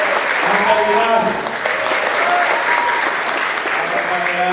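An audience of high school and vocational students at a dialogue with the Jakarta governor claps loudly and steadily throughout, a dense wall of applause with faint voices mixed in.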